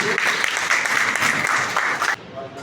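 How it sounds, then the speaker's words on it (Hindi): An audience at a business gathering gives strong applause for an honoree. Dense, loud clapping carries on for about two seconds, then cuts off abruptly, leaving a quieter room tone. "मैं चाहूँगा जोरदार ताली एक बार राम मिलन सर के लिए"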